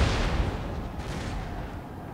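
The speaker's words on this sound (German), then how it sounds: "wo auch immer jetzt meine Kanonen gerade hinschießen" Cannon and artillery fire in the Napoleon Total War battle game booms with a heavy opening blast, then a rolling low rumble that fades slowly across the moment, with no talking.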